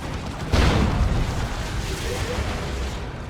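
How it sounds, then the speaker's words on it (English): A plasma cannon hit in the strategy game Dawn of War 2: a single heavy, booming impact that erupts suddenly and then lingers as a broad rumbling wash of battle noise. "Oh, good plasma cannon hit though."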